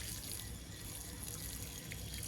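Water poured to soak freshly planted sweet potato slips in a garden bed, a faint, steady trickling and splashing that runs evenly throughout with no voices.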